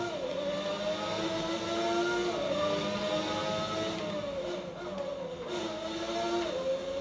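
Racing engine of the 1991 McLaren Formula 1 car in a racing video game, a steady high-pitched whine with pitch sweeping up and down through gear changes, loud and continuous throughout.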